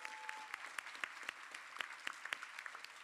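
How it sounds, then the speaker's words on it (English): Scattered, faint applause from a modest audience at a community energy justice roadshow in the River Parishes, Louisiana, with distinct individual claps over a quiet room. "Let's give a round of applause to each of our panelists"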